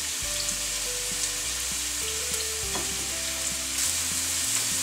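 Onion frying and being stirred in a pan while chicken stew with tomatoes and spices is cooked: steady loud sizzle with low tonal hum from the stove or pan and occasional scrapes, no talking.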